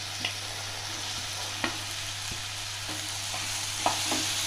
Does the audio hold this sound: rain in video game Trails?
no